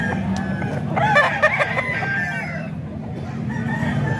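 Rooster of the alimbuyugin type being shown for sale crows once in a clear, loud call over a low background rumble, with faint clucks around it.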